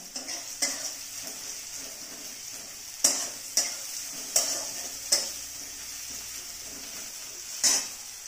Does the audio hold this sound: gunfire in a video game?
no